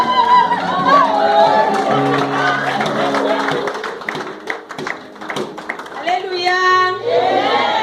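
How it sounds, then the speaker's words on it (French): Church congregation standing and applauding during a Mother's Day service, scattered claps and taps mixed with crowd chatter, music notes and a few voices. "qu'on se mette debout et qu'on applaudisse la femme de Dieu"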